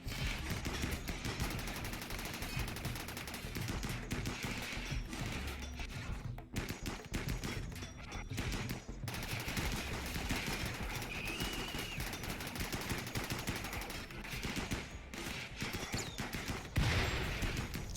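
Colonists firing in RimWorld, with dense, continuous volleys of gunfire that crackle almost without pause for the whole stretch and build slightly toward the end.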